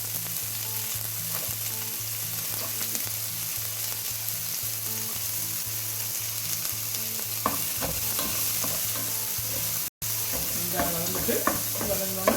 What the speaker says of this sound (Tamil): வெங்காயத்தை வதக்க போடுவோம்.